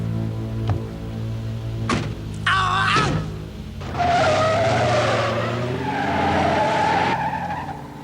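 Video game car chase: tires squeal and skid in several sharp, loud bursts as a car swerves, with engine roar and a long screeching slide building toward the end, no voices.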